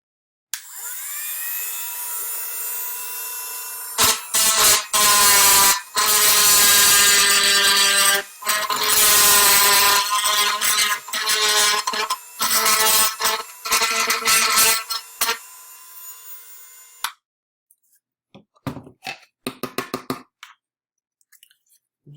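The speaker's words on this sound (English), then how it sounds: "I'm going to set my Dremel tool on a fairly low speed here because this is soft plastic" A Dremel rotary tool set to low speed grinds through soft plastic, giving a loud, shrill, whining grind in repeated bursts for about thirteen seconds before cutting off, followed by a few faint clicks and handling noises.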